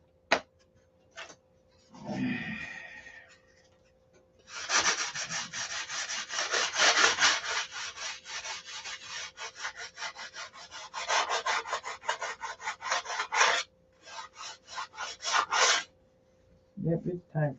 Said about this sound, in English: Yep, it's time for a new piece of sandpaper.